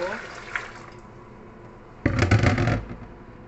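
Water is poured back into a pot of spaghetti for a Bolognese meat sauce, a splashing pour that rises abruptly and runs for under a second after quiet kitchen sounds, with someone speaking nearby.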